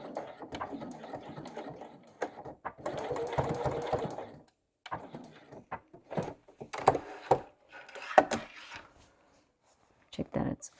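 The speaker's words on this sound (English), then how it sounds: "just sewing that a little bit at the top there to make sure that there are no gaps in that inside" A sewing machine stitches a bag seam in short, stop-start bursts of whirring separated by pauses, with a person talking between and over the runs.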